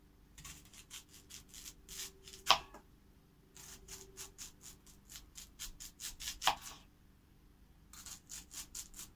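An onion is sliced into rings on an outdoor cooking spot while the grill is being lit, to go with shashlik. Close, crisp knife strokes come in quick rhythmic bursts with short pauses between runs, and no one talks.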